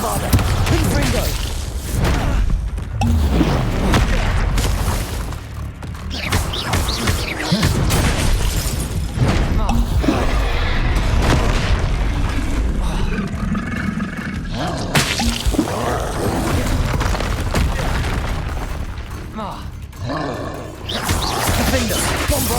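Loud, dense Hogwarts Legacy combat with repeated Bombarda and Confringo spell blasts, booming impacts and crashing debris layered continuously over a roaring game soundscape, with a voice talking throughout.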